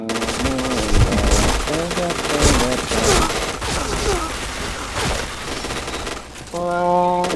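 Shooter video game gunfire, bursts of rapid shots and fusillade crackle running through most of the stretch, loud and close, with voices talking underneath.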